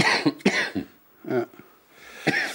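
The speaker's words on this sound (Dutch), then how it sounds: "En hoest nu eens." A patient gives several sharp coughs in quick succession during a doctor's examination, close up, followed after a pause by a couple more coughs and a breathy exhale.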